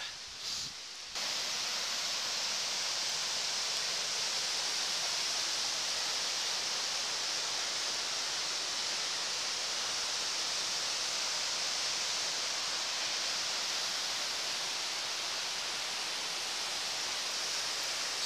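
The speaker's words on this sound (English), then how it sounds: "I'm gonna walk over and look at this pretty little waterfall real quick" Small forest waterfall at Spruce Knob in Monongahela forest in February, a steady, dense rush of falling water heard close and continuous after a brief muffled start.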